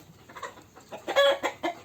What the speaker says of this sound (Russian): Это у меня было 5 курочек и 2 петушка.